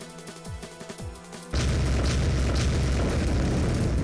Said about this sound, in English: A roar and an explosion sound at the same time.